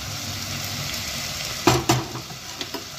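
Spices frying for sambhar crackle and sizzle steadily in a pan, with a few sharp clinks of stirring near the middle and no talking.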